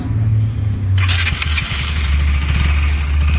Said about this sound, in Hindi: Which is the exhaust sound. वो सुन लेते हैं.